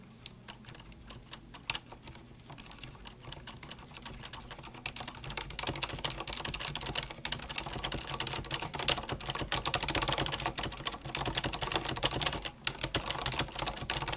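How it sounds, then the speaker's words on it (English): Typing on a Corsair Strafe RGB keyboard with Cherry MX Silent switches, muted key presses starting slow and sparse, then speeding into a dense, steady patter of soft clicks, close and alone. "I'll start by giving you a typing test"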